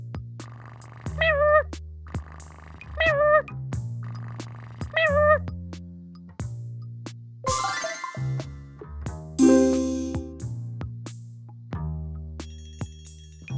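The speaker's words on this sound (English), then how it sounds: "Meow." Cartoon cat meows in a children's English learning seesaw game, short high mewing calls repeating in a steady run over bouncy music with chimes and jingles.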